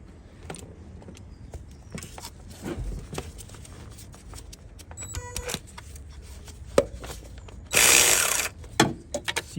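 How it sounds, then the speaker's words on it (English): Ratchet with a long 14 mm socket working a Toyota Auris alternator nut, quiet intermittent clicks and mechanical knocks close up, followed by a brief louder burst near the end. "Actually, I'm going to use my long socket."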